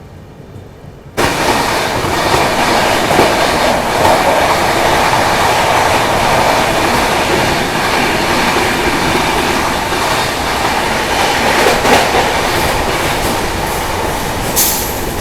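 Paschim Express on the Mumbai–Amritsar route running at high speed alongside a local train, a steady loud roar of wheels and rushing air with faint clicking, starting abruptly after a quiet second and continuing unbroken.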